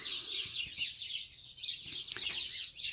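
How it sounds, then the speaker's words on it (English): Several birds sing and chirp continuously outdoors, with bright, steady twittering at moderate distance and no voices. "thought I'd share some of my bird singing. I think I've got a lot of birds."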